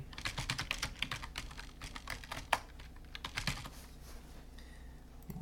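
Typing on a computer keyboard, clusters of quick clicky keystrokes in uneven bursts, close and fairly clear with pauses between runs.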